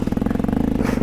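A Voge 300 Rally motorcycle engine running close by, its exhaust pulsing in a rapid even beat at a steady idle-to-low rev, with a brief scrape near the end.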